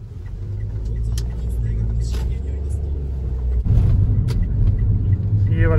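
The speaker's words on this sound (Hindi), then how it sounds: "ये खड़ी मेरी गाड़ी, चलते हैं इसमें।" Car parked by large houses in a residential area in Japan rumbles as its engine runs and it pulls away, the low engine note rising toward the end, with some voice faintly present.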